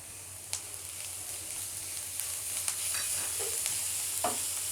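Grated carrot and cabbage frying in a pan for a samosa filling: a soft, fairly faint sizzle with a few light stirring scrapes scattered through.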